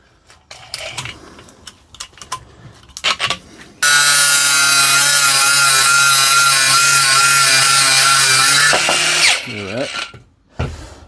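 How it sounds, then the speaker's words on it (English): An angle grinder with a Lidl Parkside cutting disc cuts through a Dewalt drill chuck, a loud, steady high-pitched metallic screech lasting several seconds, preceded by clanks and handling noises and followed by the motor winding down. "I've been so gentle with this grinder."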